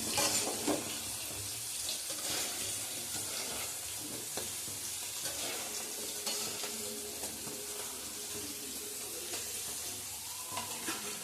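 Potato slices fry in a pan with a steady, broadband sizzle, stirred now and then with light scraping clicks throughout.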